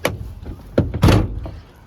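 A car door being worked open and shut with a bad creak at the door shut, giving a few short knocks and thunks close by, the loudest near the middle, with no talking.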